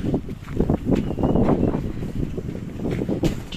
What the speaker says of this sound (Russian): Леденючие ветрище.